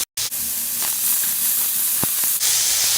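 Chopped tomato added to onions sautéing in a pan: a loud, steady hiss and sizzle of frying that starts abruptly after a brief gap, with a small clunk partway through, close up and with no speech.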